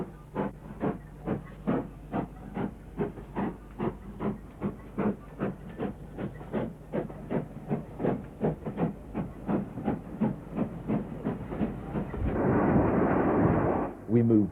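GWR Grange class steam locomotive working hard nearby, a rapid regular chuffing exhaust beat that runs steadily for about twelve seconds before giving way to a loud sustained hiss of steam.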